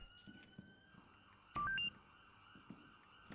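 In the tactical shooter Zero Hour, a short exit signal sounds as a quick rising run of electronic beeps midway through, loud and clear above quiet game ambience with faint footsteps.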